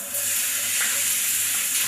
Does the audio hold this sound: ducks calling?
no